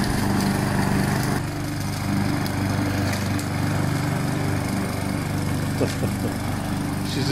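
A lawnmower or strimmer engine runs steadily in the garden, a loud, continuous drone with no break and no talk over it.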